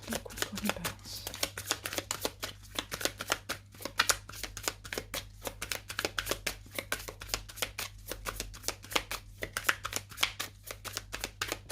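A tarot deck being shuffled and cut by hand, a dense run of quick riffling card flicks and taps, close up and continuous, with no talking.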